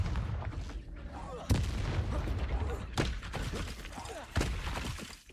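The Confringo blasting spell from Hogwarts Legacy erupts in a sequence of loud, booming explosions, three strong blasts standing out over a continuous rumbling, crackling background of battle.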